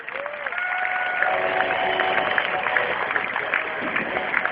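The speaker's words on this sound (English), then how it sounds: "Let's give him a big round of applause, General Haster." Steady applause from a military crowd honoring the garrison commander, continuous and moderately loud for several seconds, with faint voices mixed underneath.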